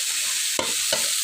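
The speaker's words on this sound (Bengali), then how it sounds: "তো এখন আমি শাকটা ভালো করে মিশিয়ে নিয়ে" Red amaranth greens with rohu fish get stirred in a pan, a soft hissing simmer broken by two quick scrapes of the spoon, close and alone.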